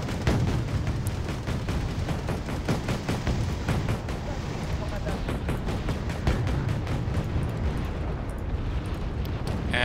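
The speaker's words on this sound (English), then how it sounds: "Actually, that's mortars." Mortar fire in the real-time strategy game Wargame Red Dragon, a steady barrage of booming impacts and rumbling blasts layered over continuous battle noise.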